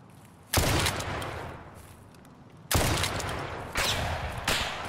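Shotgun blasts in a hardcore-mode shooter video game: three loud, sharp booms spaced a second or two apart, each followed by a short fading tail, with no one speaking.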